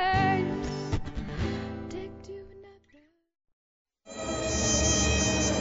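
A close, high-pitched mosquito whine drones and wavers, fades out into a second or so of silence, then returns at full strength.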